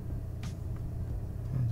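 A car drives along the north coast road of Madeira island with a steady, low engine and road rumble that swells slightly at the end, and no voices.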